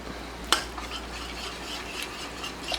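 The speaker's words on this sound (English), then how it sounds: "So then I'm going to whisk it" A DIY hair mask mixture whisked in a bowl, with soft, continuous swishing and stirring, a sharp clink against the rim near the start and lighter taps after, close and alone.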